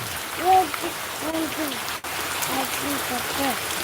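Heavy morning rain hisses steadily and evenly throughout, with faint low voice-like tones drifting through it now and then.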